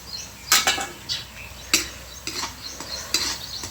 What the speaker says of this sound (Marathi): मिरच्या आणि लसूण छान असा मस्त परतून घेते, गुलाबी होईपर्यंत लसूण आणि मिरच्या पण छान अशा.